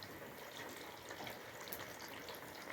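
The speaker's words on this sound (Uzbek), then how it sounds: "Yengi yog' bo'lgani uchun vijir qilib qaynayapti" Fresh cooking oil bubbles and sizzles in a small pot, heated for frying fish at a family dinner. A steady, close crackle fills the whole stretch with no talking.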